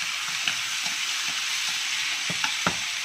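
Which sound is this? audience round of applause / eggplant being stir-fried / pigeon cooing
eggplant being stir-fried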